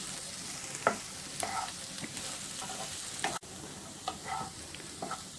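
A carrot and potato fry with chilli powder being stirred in a pan, a spoon scraping and knocking in several separate strokes over a faint sizzle, close but fairly quiet.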